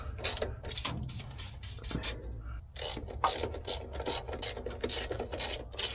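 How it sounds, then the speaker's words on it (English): A ratchet wrench clicks in rapid bursts of strokes while loosening a bolt on a crane left abandoned in the woods for 40 years, a close, rasping rhythm with brief pauses between pulls. "Think we'll wrench that."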